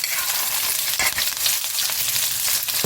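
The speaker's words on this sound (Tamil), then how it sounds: "நல்லா வதங்கட்டும் வெங்காயம்" Sliced large onions sautéing in oil in a pan for chicken fry, a steady close sizzle with crackling bursts and occasional stirring scrapes, with no talking.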